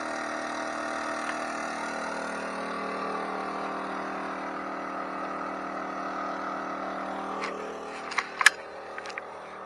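An RV generator runs steadily inside a homemade quiet box with the back left open for exhaust, a constant moderate hum throughout, with a few sharp clicks near the end.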